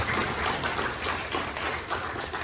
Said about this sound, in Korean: 이정윤 차장님께 큰 박수로 부탁드리겠습니다